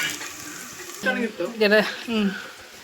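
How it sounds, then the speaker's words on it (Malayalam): Sliced onions and coconut pieces frying in oil for kalathappam, giving a steady low sizzle beneath a person talking nearby. "ഇത് ഉള്ളി മുപ്പിക്കുക. അതിൻ്റെ കൂടെ തന്നെ തേങ്ങാക്കൊത്തുണ്ട് കേട്ടോ, അതും കൂടി ചേർത്ത് വെക്കുക"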